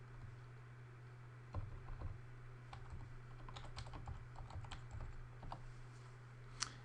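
Fingers type a password on a computer keyboard in quiet, irregular clicks and taps over a low steady hum, with no talking.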